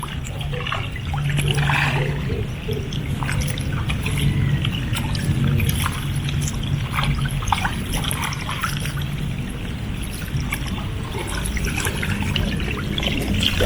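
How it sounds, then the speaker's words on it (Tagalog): Water poured into a container holding tilapia fish on a fish farm, a steady splashing, trickling flow running continuously at close range, with no talk over it. "Buhusan mo na lang ng tubig."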